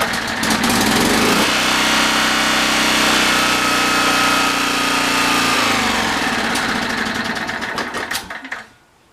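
A small GN190 engine runs steadily at high, buzzing revs, then its tone drops and stumbles as it loses spark, recovers briefly and finally cuts out near the end; the sound is loud and close, with no talking.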